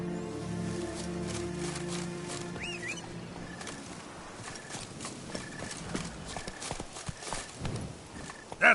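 Hooves clip-clop at a walking pace from a horse in the video game The Witcher 3: Blood and Wine, steady close footfalls over faint ambient game sounds and a soft whistling tone.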